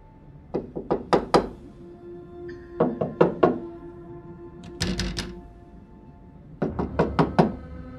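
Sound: knocking on a door, radio drama effect

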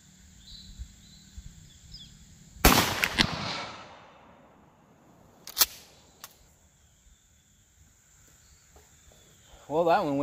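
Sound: 12 gauge sabot slug shotgun shot

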